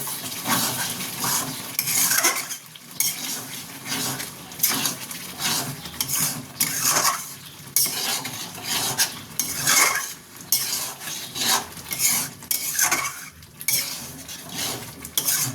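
Mutton bhuna with green chilli being stirred and fried in a pan, with repeated scraping spoon strokes and clattering metal against the pan over a low sizzle, close and rhythmic, without talk.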